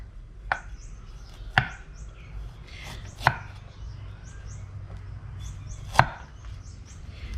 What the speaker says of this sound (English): I'm gonna cut them thin slice thin slice